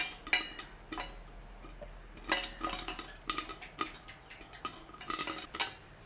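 Corn kernels popping inside a covered pot while making popcorn, heard as scattered sharp clicks and taps against the lid and metal, irregular and close, with no talk.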